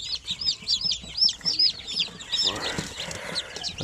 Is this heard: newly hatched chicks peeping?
yes